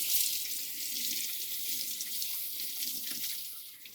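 Tap water runs into a sink over firm, bright green tomatillos being rinsed, a steady splashing stream with no talking.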